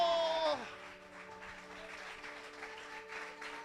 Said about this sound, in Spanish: espere, no aplauda.